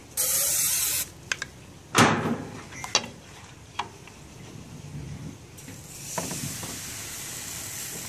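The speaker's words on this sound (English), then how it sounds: "just a quick bit more spray" A short, sharp hiss of cooking oil aerosol spray onto a pan bursts at the start, followed by a few clicks and soft knocks in a quiet room.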